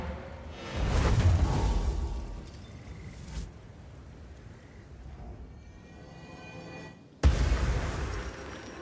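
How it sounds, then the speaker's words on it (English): Post-death explosion in the video game Path of Exile 2, a booming whoosh with a burst around the start, then softer rumbling effects and a sharp second hit near the end. "Little post-death explosion."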